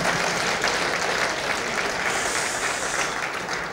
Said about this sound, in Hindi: सीओ साहब के इस हुक्म के लिए एक तालियां